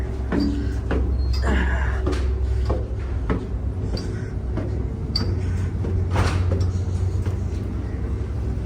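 Doors aboard a car ferry open and close with repeated thuds, clacks and sliding rattles over a steady low engine rumble, fairly close and loud.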